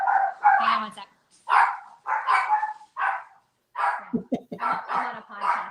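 A dog gives a short burst of yips and barks partway through, sounding close and loud, while someone talks before and after it indoors.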